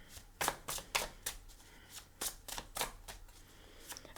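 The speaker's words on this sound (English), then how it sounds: "Kind of shuffle these up a little bit." Tarot cards shuffled by hand during a reading, a run of crisp riffling snaps and soft slaps in quick irregular bursts, close and clear with no talking.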